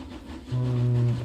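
A train in the economic strategy game Railroad Corporation pulls away hauling wooden beams and logs, giving a short steady rumble with a sustained low horn-like tone that builds and holds.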